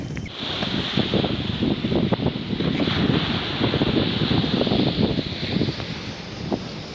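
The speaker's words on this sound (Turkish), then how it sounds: "Dalgalar sahili dövüyor." Waves beating against a shore on a cold November day, a steady broadband roar of surf under heavy wind buffeting, continuous and fairly loud with no talk.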